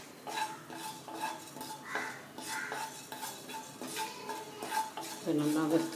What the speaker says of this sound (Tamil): பட்டை மிளகாய், வெந்தயம் இதெல்லாம் வறுத்துக்கணும்.